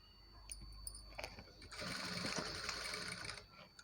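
A sewing machine stitches the side slits of a Punjabi dress, with a few short clicks at first, then a steady whirring run of stitches in the middle before it stops, heard close up.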